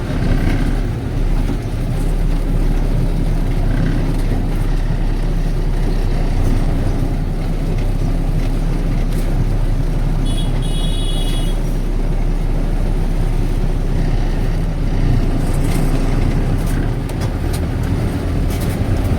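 A vehicle creeps slowly over a railway level crossing with a steady, close engine rumble and road noise throughout, plus occasional faint clunks and rattles from outside.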